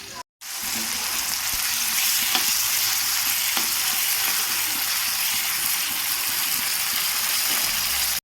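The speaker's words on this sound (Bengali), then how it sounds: "তো এখন এই তেলটা মাঝখানে ফাঁকা করেছি, এর মধ্যে চিংড়ি মাছগুলো দিয়ে দেবো" Shrimp frying in oil for a bitter gourd and prawn dish makes a loud, continuous sizzle after a brief silent gap, with occasional scraping clicks of stirring and no voices.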